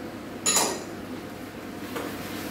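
A spoon scrapes and clinks against a pot of veal marengo on low heat, giving one sharp clink followed by softer stirring scrapes, close and quiet with no talk.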